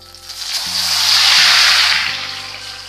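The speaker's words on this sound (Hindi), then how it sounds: "प्याज को हम अच्छी तरह से पका लेंगे।" Ground paste of garlic, ginger and green chili added to onions frying in a pan: a loud, steady sizzle that swells and fades, with low hums running beneath it.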